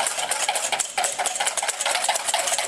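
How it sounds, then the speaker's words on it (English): An electric mixer whips egg whites into a froth for fortune cookie batter, a steady close whirring buzz with rattling, bright texture throughout and no talking. "now I'm going to start to blend this until the egg whites start to get nice and frothy"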